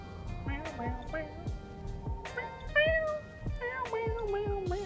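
A human voice imitates a cat with a quick string of short meows, each one a separate little yowl at close range, one after another.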